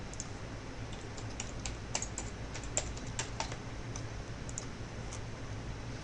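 Login details typed on a computer keyboard: quiet, close, irregular key taps in short bursts over a faint steady hum, no voices.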